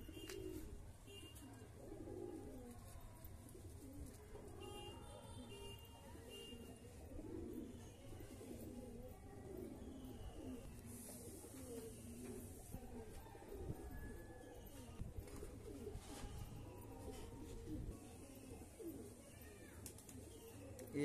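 Fly line breed pigeons, an old breed, cooing softly in a loft, low repeated coos layered over a steady background hum, faint and continuous, with someone talking quietly at times.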